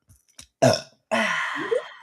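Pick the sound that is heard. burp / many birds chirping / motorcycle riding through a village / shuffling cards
burp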